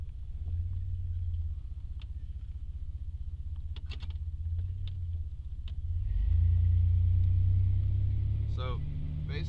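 Engine of a 1992 Chevy truck running steadily while driving, a continuous low rumble that swells louder partway through, with brief speech over it.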